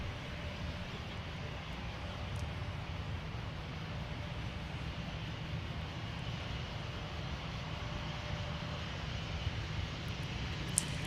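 At Minneapolis–St. Paul airport, a jet airliner's engines drone steadily from a distance, a low constant rumble running throughout with no voices.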